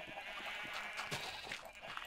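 Sheep in the Minecraft video game bleat in a string of short, wavering calls at moderate volume, heard over a soft, steady background hum with no talking.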